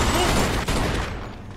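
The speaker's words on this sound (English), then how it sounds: "They're shooting at me, for Christ's sakes!" Dense gunfire from the Mafia 2 video game rattles loudly and continuously, a close, sustained burst of shots filling the short moment before tapering off.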